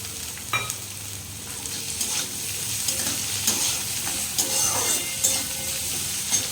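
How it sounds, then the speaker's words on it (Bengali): Carrot and potato fry with chopped capsicum and green chillies, stirred steadily in a pan, giving a constant close sizzle with repeated scraping strokes and no talk. "গাজর আর আলুটা একটু ভাজা ভাজা হয়ে গেছে এবার আমি এর মধ্যে দিয়ে দেবো কুচনো ক্যাপসিকাম আর কাঁচা লঙ্কা"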